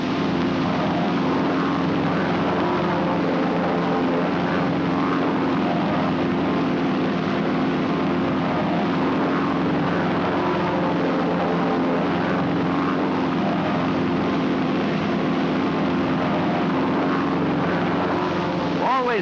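A group of propeller airplanes flying in formation drones continuously at close range, with a steady, loud engine roar that holds level throughout and no clear voices over it.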